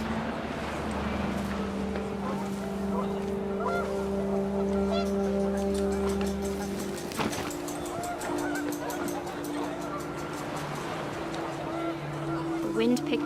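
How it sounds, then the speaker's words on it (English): Geese honk repeatedly in the video game What Remains of Edith Finch over a steady, droning wind background, with a sharp burst partway through and the calls continuing afterward. "The wind picked up, and panicked geese appeared and quickly went."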